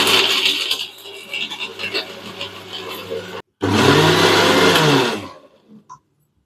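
Kitchen mixer grinding nuts into a coarse powder, two loud whirring bursts separated by a brief stop, ending abruptly with a few faint clicks.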